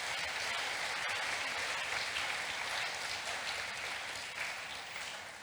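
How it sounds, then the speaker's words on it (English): Audience at a youth gathering in a hall applauds the Reverend, a broad, sustained burst of clapping that fills the room and slowly eases toward the end. "I think Reverend deserves a round of applause."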